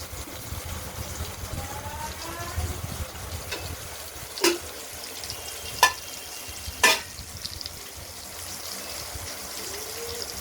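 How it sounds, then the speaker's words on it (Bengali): Stuffed pointed gourd (parwal) filled with poppy seed and chilli paste fries gently in mustard oil in a kadai, a soft steady sizzle with three sharp clinks of a spatula against the pan, and no speech. "উল্টে পাল্টে সব করে পুরো দিকটাই পটলের ভাজা করে নিতে হবে।"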